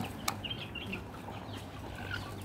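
Chickens and a rooster cluck softly at feeding time among ducks in a farmyard, with scattered short calls over a low, steady background murmur.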